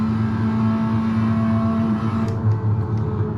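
A race car engine in a sim racing video game holds a steady, loud buzzing drone that eases slightly toward the end, with no talk over it.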